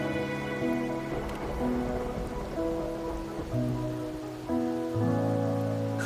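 Steady rain falling in the game Wuthering Waves, a dense constant patter over a soft sustained musical drone, with no voices.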